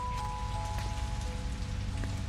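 Steady rain pours down in the horror game Shadow Corridor 2, a dense continuous patter over a dim modern back-alley setting, with faint tonal hums running underneath and no voices.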